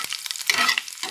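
Garlic, chili and black cumin fry in a hot pan for a banana-peel bharta, giving a close, steady crackling sizzle broken by brief scraping stirs, with no voices.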